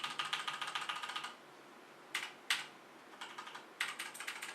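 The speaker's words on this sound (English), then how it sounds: "Not too different, but the black switch version is going to sound a lot quieter." Someone types on a LingYi mechanical keyboard with Outemu black switches. Quiet bursts of rapid key clacks are broken by pauses and a few single louder strokes, close up, with no talking.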